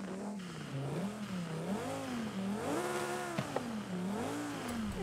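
A Lamborghini Sesto Elemento exhaust in the video game Forza Horizon 5, revving up and down in repeated swells with a wavering, growling tone, heard steadily and alone.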